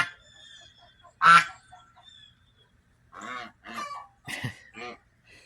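Several ducks quack in short, separate bursts, one loud call early, then a cluster of nasal quacks, with quiet gaps between them.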